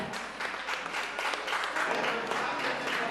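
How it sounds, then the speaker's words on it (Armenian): Audience applause at an awards event for a song and dance ensemble, a dense, steady wash of clapping from a crowd that carries on throughout. "Ձեր բուրըն ծափարությունները։"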